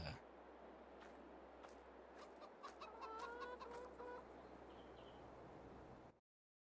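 A small flock of ten young chickens clucks on a farm, soft scattered clucks and brief calls over a low steady hum, fairly faint and close, ending abruptly.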